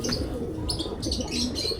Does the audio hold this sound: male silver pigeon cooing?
yes